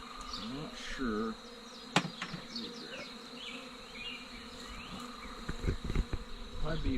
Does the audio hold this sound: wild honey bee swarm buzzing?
yes